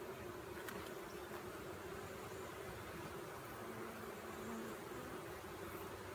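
Honey bees buzz steadily during a beehive inspection, a faint continuous hum with no voices.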